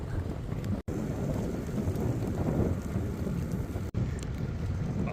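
Steady wind roars against a box carried on someone's back while walking outdoors in Singapore. The gusting rush is continuous and broadband, with no voices.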